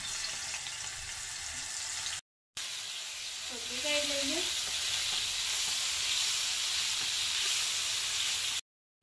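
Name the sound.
ginger garlic paste sizzling in hot oil on a tawa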